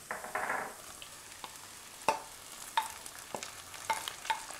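Tomatoes cooking into a marinara sauce with Italian seasoning in a pan, a faint simmering sizzle with a few soft stirring scrapes and clicks, quiet and close.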